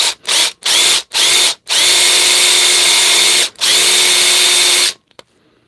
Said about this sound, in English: Start the drill nice and slowly.